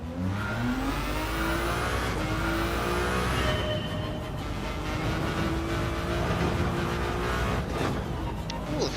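A Ferrari race car engine in Gran Turismo 7 at Yas Marina revs and climbs through gears in repeated rising sweeps, loud and continuous, with tyre and road noise underneath.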